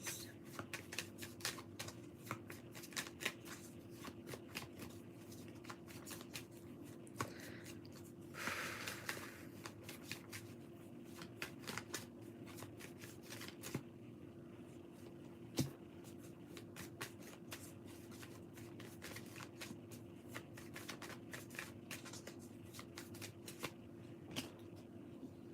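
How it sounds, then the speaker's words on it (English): Tarot cards being shuffled by hand, a steady run of crisp riffling and flicking that carries on for the whole stretch, close up and fairly quiet, with a faint sniff partway through and no talking. "We need 3 cards for Kat, please."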